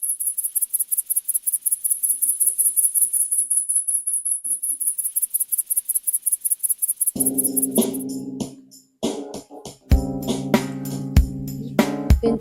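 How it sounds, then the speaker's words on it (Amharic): Grasshopper chirping in a rapid, steady pulsing trill that runs for several seconds alone, then is cut off as louder music and clatter take over. "ፌንጣን አያችኋት? ድምፁን እየሰማችሁት ነው የፌንጣን?"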